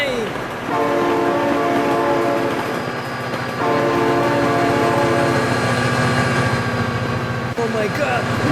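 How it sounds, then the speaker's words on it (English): A train blasts its horn in long repeated tones while rumbling past in the BeamNG driving game, loud and close, with a shouting voice over parts of it. "Oh my god, train!"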